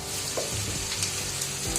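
Onions frying in oil for a dry fish curry give a steady, close sizzle with faint crackles throughout, no voices.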